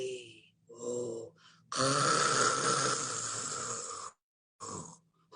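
A human voice imitates loud snoring in a series of exaggerated snorts, with short grunting bursts and then one long, rasping snore, each separated by brief silences, performed during a children's story reading.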